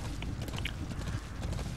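Horse hooves clip-clop in Metal Gear Solid 5: The Phantom Pain, a steady rhythmic trot at moderate distance, blended into a constant bed of ambient game noise.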